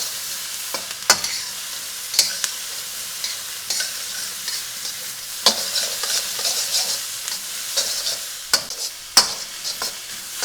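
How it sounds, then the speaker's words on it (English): Frozen vegetables sizzle steadily in a hot pan, with sharp scrapes and knocks as a utensil stirs them every second or so. Close, fairly quiet, with no voices. "now let's throw in our frozen veg. Let that start cooking."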